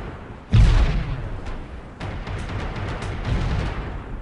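Explosions in the Comanche 3 Gold helicopter combat game: a heavy low boom hits early and rumbles out, then a second rolling blast follows with a sustained crackling, thundering tail.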